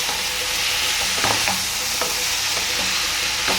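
Fried fruit pieces are stirred around a hot pan, a steady oily sizzle running throughout with a few sharper scraping strokes of the spoon near the middle and end.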